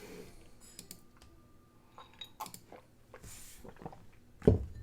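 Computer keyboard typing during an online computer systems security Q&A session, a sparse run of light clicks and taps with a louder knock near the end, no talking.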